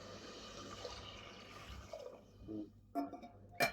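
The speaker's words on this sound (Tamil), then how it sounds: "இந்த தண்ணி கொஞ்சம் ஊற்றிக்கலாம்." Water poured into masala in a pressure cooker, a soft running and splashing that fades, followed by a few faint drips and small clinks, all close and quiet with no talk.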